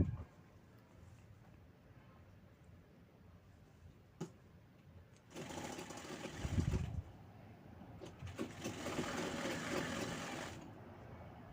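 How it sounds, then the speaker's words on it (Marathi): A sewing machine stitches the side seam of a long pleated dress made from a reused Paithani silk saree, running in two fairly loud bursts of fast stitching separated by a pause, after soft handling noises and a single click. "घेर याची पण साईड आपण शिवून घेणार आहोत जशी अस्तरची शिवली"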